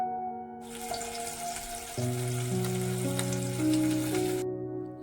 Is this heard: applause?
no